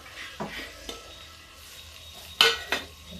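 Potato pieces tumbled into a pan of cooking vegetable curry, giving a few soft thuds and clinks of a spoon against the pan over a faint low sizzle, with one brighter clatter near the end.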